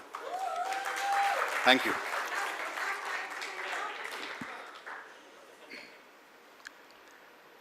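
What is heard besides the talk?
audience applause at a Marathi film trailer launch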